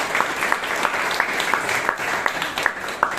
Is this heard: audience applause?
yes